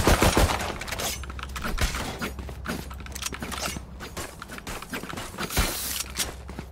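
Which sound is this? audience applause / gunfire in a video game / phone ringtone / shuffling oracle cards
gunfire in a video game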